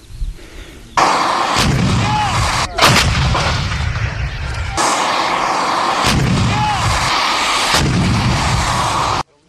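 A heavy artillery gun crewed by seven fires in deep booming blasts, each followed by a long rumbling roar, loud and close, with two or three shots through the stretch.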